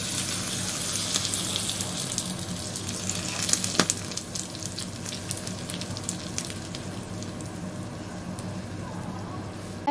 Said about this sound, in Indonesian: Lalu kita siram minyak panas di atasnya.